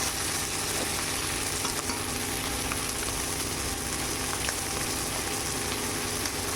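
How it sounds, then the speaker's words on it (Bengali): Prawns frying in a pan, a dense, even crackling sizzle that runs unbroken and close throughout, with no voices. "চিংড়ি মাছটা কিন্তু আমার দেখুন ভাজা ভাজা হয়ে গেছে"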